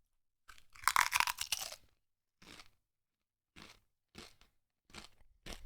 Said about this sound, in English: They are so big and crunchy. Even you guys can hear the crunch.